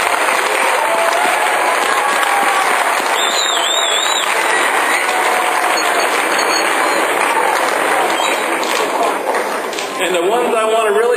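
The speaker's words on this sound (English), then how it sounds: "If you could give them a round of applause," A crowd gives a sustained round of applause, dense clapping that fills the whole stretch at a steady loud level, with brief bits of talk and cheering mixed in.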